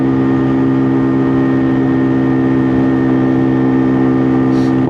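Engine of a WK Colt motorcycle cruising at 30 mph: a loud, steady, even drone that keeps the same pitch throughout, then rises in pitch at the very end.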